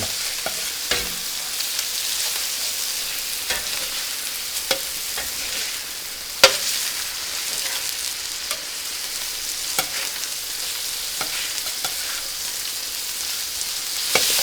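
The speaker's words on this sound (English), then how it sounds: "So we got to be very careful not to overcook the fish in here, but just give it a little browning." Fish pieces brown in a frying pan while making paella Valenciana, a steady even sizzle throughout with occasional light clicks and scrapes from turning, no voices.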